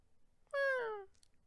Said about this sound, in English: That was a cat noise.